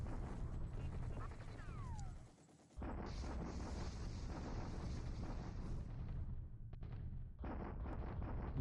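Artillery bombardment in a WWII strategy game, booming fire rumbling continuously and densely across the scene with a brief lull midway, mixed under game sound effects.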